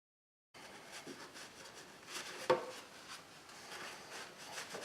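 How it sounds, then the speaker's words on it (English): The valve cover gasket mating surface on a 2001 Ford Focus DOHC engine is cleaned with soft, faint, continuous rubbing and scraping, plus one sharper knock partway through. "We'll come back in here and clean the mating surface for the gasket."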